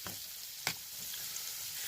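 Mr Noodles instant noodles frying in a pan inside a campervan, a steady soft sizzle with a brief scraping stir partway through, close and alone.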